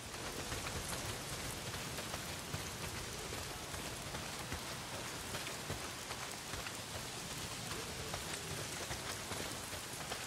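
Steady heavy rain pours in the video game Days Gone, a dense continuous hiss of drops hitting surfaces with no voices over it.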